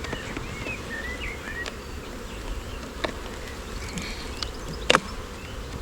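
Steady insect buzzing from many honeybees around a hive during an inspection, a dense continuous hum with a few sharper clicks and taps close by.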